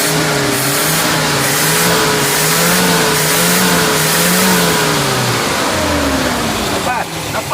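A nearby engine with a standard carburetor revs up and down repeatedly in a loud, rough drone, with talk faintly mixed in.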